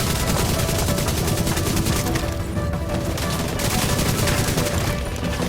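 Dense rapid gunfire from the video game The Division 2 rattles almost nonstop in fast bursts, loud and close, with a brief lull near the middle before the shooting picks up again.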